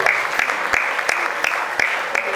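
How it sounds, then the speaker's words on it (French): Sparse clapping from a small audience at an evening event, individual hand claps standing out in an uneven rhythm, close and fairly loud with no talk over it. "On applaudit pour elle, s'il vous plaît."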